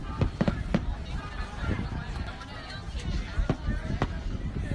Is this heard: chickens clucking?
no